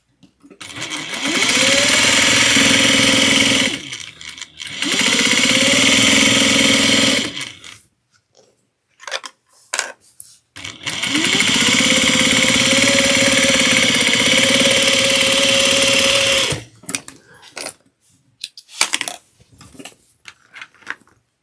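A sewing machine understitches the lining of a tote bag in three bursts, a loud, close, buzzing motor run of a few seconds each, separated by pauses with handling clicks and fabric rustle.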